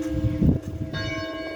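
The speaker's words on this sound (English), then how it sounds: "May the music of the bells help your mind be at ease." Church bells in Portland, Ontario ring out loud and steady, their sustained metallic tones overlapping in a continuous peal with no voices.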